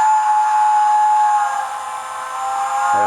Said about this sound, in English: I suppose the right thing to do is always whistle before you move off